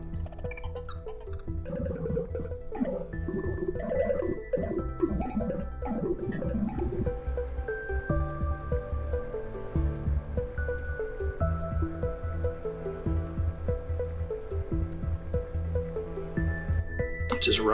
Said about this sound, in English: Now, can I turn on the dishwasher?